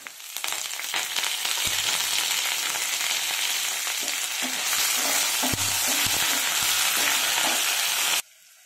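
Dried red chilies and curry leaves crackling in hot oil as tempering for fenugreek leaf fry, a loud, bright sizzle with popping bursts and stirring scrapes that cuts off abruptly near the end.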